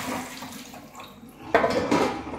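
Water poured out of a 32cm Anko stainless steel frypan from Kmart, a soft trickle followed by a sudden brief splash and a slosh of liquid hitting a surface nearby.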